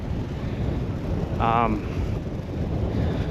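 Strong wind on Cannon Beach buffets the microphone with a continuous low roar that never lets up, and a brief voice sound surfaces halfway through.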